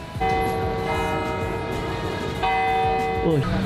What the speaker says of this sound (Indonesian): Barusan bel gerejanya bunyi